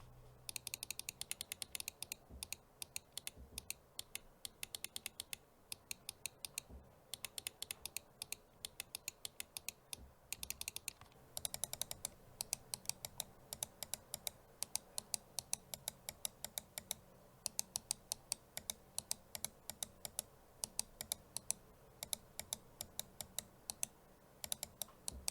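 Mouse clicks from a Logitech MX Master 3 and a Logitech G Pro X Superlight gaming mouse, heard as a long run of sharp, close clicks in quick irregular bursts, the sound shifting slightly partway through as the second mouse takes over; no talking.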